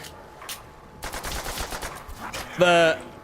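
Rapid bursts of automatic gunfire sound in an old-school Call of Duty zombies game as a whole magazine is emptied into an enemy. A bright electronic game tone follows near the end.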